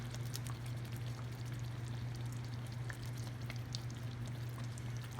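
Shrimp tipped into a pot of simmering gumbo, a soft pouring patter over a steady low hum, with scattered light bubbling and splashes.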